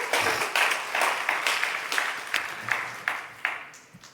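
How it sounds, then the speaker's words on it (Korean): An audience at a university chapel service claps in a steady, rhythmic beat to welcome a guest pastor. The applause is fairly loud and even, with no voices over it. "여러분 박수 한번 하겠습니다."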